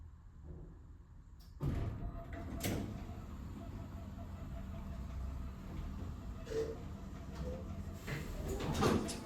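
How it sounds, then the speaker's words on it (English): A Westinghouse/Otis hydraulic elevator door at a community center slides closed with a sudden thunk, then a long low rumbling slide with faint clunks and a rattle near the end, heard from inside the cab. "This door takes forever to close."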